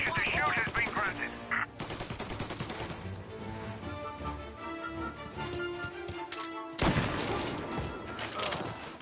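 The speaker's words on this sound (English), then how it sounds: "Shots fired, please respond." Gunfire in Mafia: Definitive Edition, rapid bursts of shots rattling continuously through a busy game mix with a loud burst near the end.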